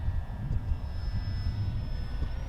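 A Bigfoot 1300mm RC airplane flies overhead, its electric motor giving a steady droning whine with a faint higher tone, fairly close and sustained without interruption.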